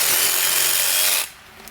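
A Dewalt one-handed power saw rasps through a tree branch still attached to the tree, a loud close cutting roar that stops abruptly after about a second.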